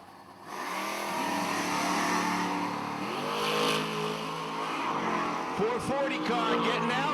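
Drag race cars, a Super Bee and a 1955 Chevrolet, roar down the strip with a sustained rising engine drone, while an announcer talks over them.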